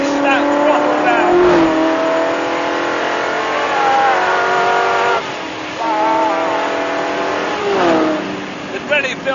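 A Ford GT40 race car engine revs hard and climbs through gears, whining up in pitch with short drops between shifts, loud and close.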